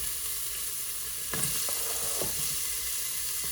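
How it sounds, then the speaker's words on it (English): Chili ingredients sizzle in a hot pan at moderate heat with a steady, hissing fry, and brief clinks of stirring rise above it, close by and fairly quiet, with no talk. "See, there's our sizzle."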